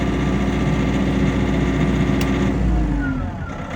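A portable generator runs at Burning Man with a steady, close engine drone that thins slightly near the end.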